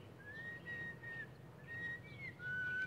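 Someone whistles three short melodic phrases, each a clear sustained note that slides and wavers, fairly soft and alone against a quiet background.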